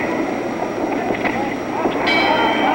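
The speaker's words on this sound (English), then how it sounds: "There's the bell ending round 6." A boxing ring bell ending round 6 of a ten-round televised fight between Emile Griffith and Denny Moyer, ringing briefly near the end over steady crowd noise and arena murmur.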